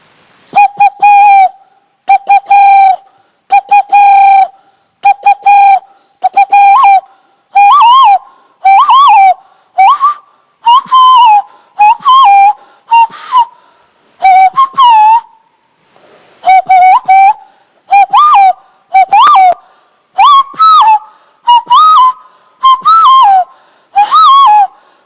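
A person whistles through their fingers to imitate a spotted dove, giving a long series of loud, close, hooting two-part calls in a steady rhythm with short pauses between phrases.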